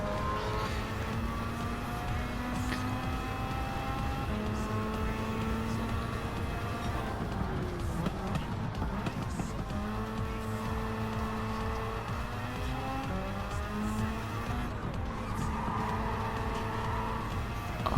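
Mazda RX-7 race car in Gran Turismo 7: the rotary engine keeps up a continuous whine, climbing through the gears and dropping at shifts, with other cars buzzing nearby throughout.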